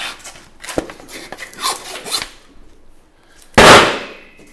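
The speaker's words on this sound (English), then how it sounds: "So just make a cut, and then I'll grab my handsaw." Handsaw cutting through a bison loin bone at the base of the knuckle, heard as a few short rasping strokes and scrapes up close, ending in one louder, harsher burst of sawing.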